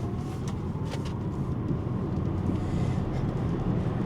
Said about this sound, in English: You gotta love EV accelerations